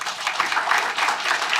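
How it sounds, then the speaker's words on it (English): Audience applause at a rivalry award ceremony, a short dense round of clapping heard alone at moderate loudness, steady with small rises and falls and no talk over it. "I think we should give them a round of applause."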